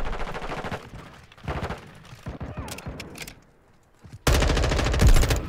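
Gunfire from Modern Warfare 2 rings out in loud automatic bursts. Short rattling volleys give way to a brief lull, then one sustained heavy burst closes the stretch.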